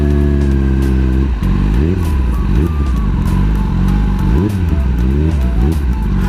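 Kawasaki Ninja ZX10R sport bike with modifications, engine revving and rising in pitch through repeated gear shifts as it accelerates on a test ride, loud and close with steady wind rumble, no talk.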